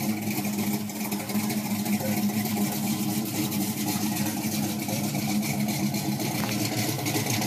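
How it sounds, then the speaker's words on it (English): A 1969 Oldsmobile Cutlass with a 350 Rocket V8 and Holley Brawler carburetor runs steadily, a loud, continuous engine rumble with no talk over it. "I'm getting ready to play a clip of what the motor sounded like"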